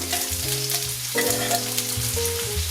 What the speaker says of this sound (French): je viens rajouter de l'huile d'olive et je viens ici mettre mes oignons